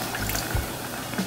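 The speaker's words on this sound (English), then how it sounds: "And we're also gonna add about 1/4 cup of water." About a quarter cup of water is poured into Sweet Baby Ray's barbecue sauce for a bourbon meatloaf glaze, giving a short, quiet splash of liquid with no talking.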